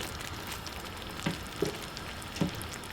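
Pork belly sizzles in a Jack and Coke glaze in a non-stick pan, a steady close frying hiss with a few soft bubbling pops.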